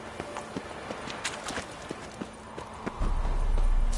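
Roach, the horse in The Witcher 3, trotting with a steady clip-clop of hoofbeats, then a louder low rumbling rush as the horse pulls up, close and without talk.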